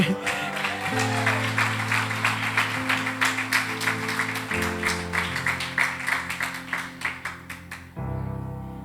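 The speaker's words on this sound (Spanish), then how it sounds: "Dele palmas al Señor, hermano." A church congregation claps for the Lord in steady rhythmic time over sustained music, the beats sharp and regular, breaking off abruptly near the end as the music shifts.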